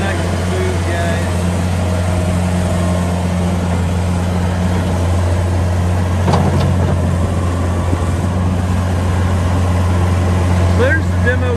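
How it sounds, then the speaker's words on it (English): A Case 1845C skid loader's diesel engine runs steadily at a constant idle, a loud continuous low drone throughout, with a brief clank near the middle and faint clatter near the end. "So there's the demo, guys, on the Case 1845C skid loader."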